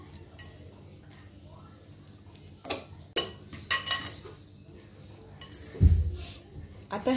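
Two boiled potatoes are mashed soft in a bowl for crispy poha potato fingers, with scattered taps, clinks and scrapes of a utensil against the dish, close by and irregular.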